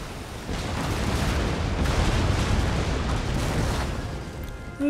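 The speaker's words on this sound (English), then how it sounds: "There go the rockets." A rocket volley in Empire Total War, a continuous rushing, rumbling roar of fire and bursts that holds steady and loud for several seconds and stands alone without talk.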